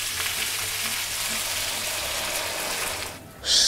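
Water poured into a hot cooking pot with squash or pumpkin, salt and peppers, giving a steady loud sizzling hiss and bubbling that fades near the end before a brief bright splash.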